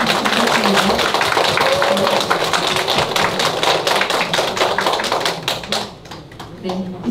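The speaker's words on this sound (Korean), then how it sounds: "다시 한번 큰 박수로 감사해요." Audience applause at a summer night reading event, a dense, sustained wash of clapping from a full room that thins out near the end.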